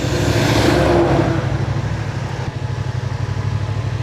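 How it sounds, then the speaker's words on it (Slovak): A truck roars past a rider on a Yamaha XSR700 motorcycle, a loud rushing swell over the bike's steady engine drone and wind noise that fades after a second or so, leaving the motorcycle's rumble alone. "nejaký kamión, díky kámo"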